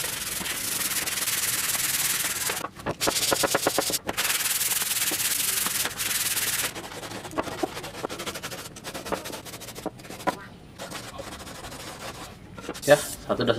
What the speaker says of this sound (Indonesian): Sekarang kita amplas dulu ya.